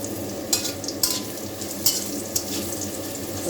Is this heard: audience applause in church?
no